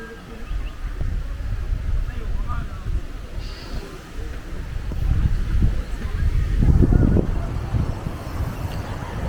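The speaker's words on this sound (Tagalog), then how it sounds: "Malakas din ang hangin." Strong wind at Bangkong Kahoy Valley buffets the microphone in low, rumbling gusts that swell toward the end, with people talking faintly underneath.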